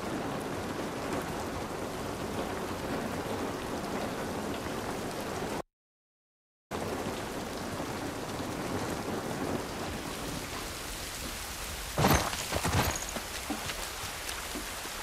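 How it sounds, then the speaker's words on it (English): Steady rain pours throughout an outdoor scene in the video game The Last of Us Part I, with a brief dropout midway and a sharp crack of thunder or splash near the end. "This rain ain't gonna do us any good."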